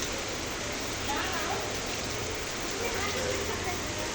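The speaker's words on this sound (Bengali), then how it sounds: "এই হলো আমাদের ঢাকা শহরের বৃষ্টি" Rain falls steadily in Dhaka city during the first rain of Boishakh, a constant soft hiss of drops on surfaces with no break.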